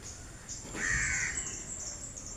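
A crow gives a single drawn-out caw from a jackfruit tree heavy with ripening fruit. The call is moderately distant and stands alone over a steady, faint high hiss.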